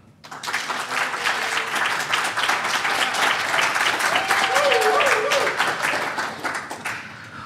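Audience applause greets a guest speaker at the State Bar of Texas Annual Meeting, a dense, steady wash of many hands clapping that swells and holds for several seconds before tapering off, with faint voices under it.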